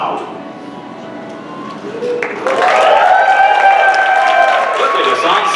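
Applause and cheering break out from the audience at a charity auction, rising suddenly partway through and staying loud, while a voice and music-like tones carry over the crowd.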